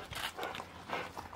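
Rottweiler barking outdoors, a few loud, close barks packed into a short burst with some scuffling around them.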